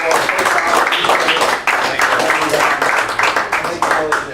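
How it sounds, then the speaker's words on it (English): A loud, dense wash of clapping fills a township public meeting room as a final round of applause, with voices talking over it throughout. "So to give you a final round of applause."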